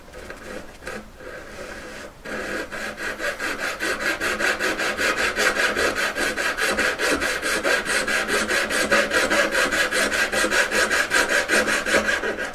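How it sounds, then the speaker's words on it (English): Steady, rhythmic back-and-forth strokes of a hand saw finishing a cut through a wooden four-sided collet, close and loud, after a brief scrape and pause at the start. "Try to keep sawing through."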